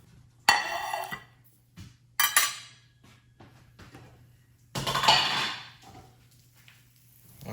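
Eggs with cheese scooped from a pan onto a plate, a utensil scraping around the pan edges in a few sharp clinks and scrapes at close range, with quiet gaps between and a low steady hum underneath.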